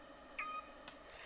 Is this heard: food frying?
no